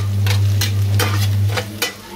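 Cumin seeds fry in a pan of hot oil for Maggi noodles, a steady close sizzle broken by repeated scraping stirs, over a low constant hum.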